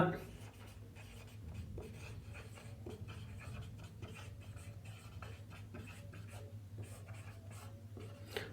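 Writing on paper or a board during a science lesson makes faint, continuous scratching and scraping strokes under a low background hum, with a voice talking at times.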